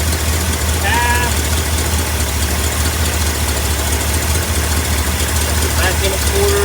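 A 1958 Ford F100 engine idles in a steady, loud, continuous rumble that holds from start to finish. Faint voices and brief whistle-like tones sound above it.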